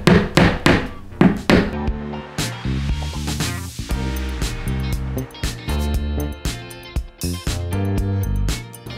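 Sharp hammer blows strike repeatedly, loud and close, in irregular bursts with brief pauses, over steady background music.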